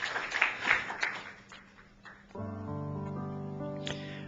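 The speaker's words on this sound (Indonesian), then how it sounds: "tepuk tangan bagi Tuhan Yesus" A church congregation claps in a burst of applause that fades over a couple of seconds, then sustained keyboard or organ chords swell in and carry on.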